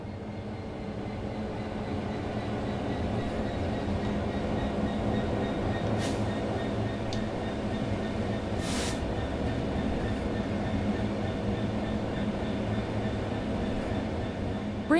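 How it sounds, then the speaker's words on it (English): Train coasting on level ground in Train Simulator 3, a steady rumbling roll of wheels and carriages with a couple of faint brief hisses, no voices. "The train will then coast on level ground, and the train will only slow down very gradually."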